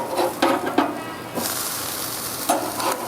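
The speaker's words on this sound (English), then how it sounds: "We'll leave those guys in there for a few minutes to get a nice sear, and then I'll flip them over to sear the other side of them" Meat searing on an electric grill gives a loud, continuous sizzle and hiss, with a few sharp crackles and pops early on and a burst of stronger frying sound partway through.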